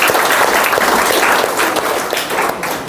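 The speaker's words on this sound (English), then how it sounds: "Can you all clap for it?" Audience applause at a live software demo, a dense, loud, continuous wash of clapping from a crowd that holds steady for about three seconds.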